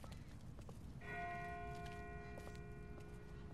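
A church bell rings at a distance within The Walking Dead video game, its tolling starting after a second and sustaining faintly over quiet background ambience.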